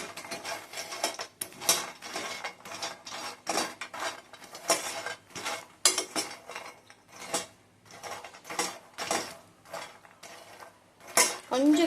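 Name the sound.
makhana (fox nuts) dry roasting in a pan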